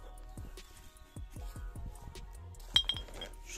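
Glass bottles clink together as they are gathered into a bag during outdoor litter collection, a series of about a dozen sharp, close chinks in an uneven rhythm, with a brighter double clink near the end.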